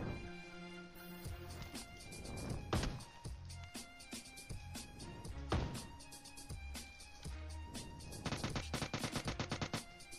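Gunfire erupts repeatedly in PUBG Mobile, with sharp shotgun-like blasts among bursts of shots over a busy game soundscape, ending in a rapid string of shots.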